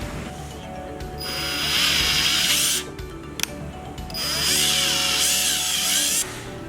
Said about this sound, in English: we're over drilling the pump to allow for it